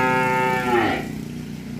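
A large cow, over a metre tall, on a cattle farm gives one loud, close, drawn-out moo that falls in pitch and fades into low background noise, with no talking.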